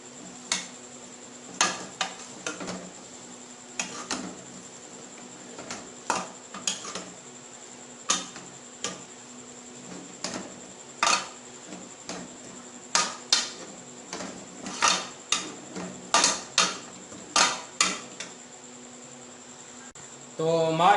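A spoon stirs Makhandi halwa with added nuts in a pan, making repeated close clinks and scrapes in an irregular rhythm that grows more frequent toward the end.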